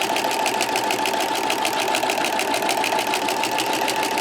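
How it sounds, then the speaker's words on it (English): A sewing machine fitted with a walking foot stitches quilting fabric in a fast, steady mechanical chatter, loud and close, its rapid needle strokes running without a break and with no voices. "I'm just holding the fabric, slowly guiding it, but the machine's doing most of the work."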